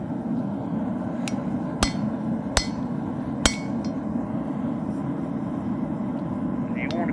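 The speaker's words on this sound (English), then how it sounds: "we can go ahead and start with the chisel now" A hammer striking a chisel on a hot railroad spike outdoors, three sharp metallic strikes with a couple of lighter taps, over a constant low rumble of background noise.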